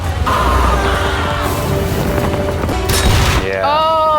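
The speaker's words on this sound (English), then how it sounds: "Close artillery strike!" A close artillery strike in the war film Hacksaw Ridge, loud booming blasts and rumbling gunfire mixed with shouting and a rising whistle, dense and continuous throughout.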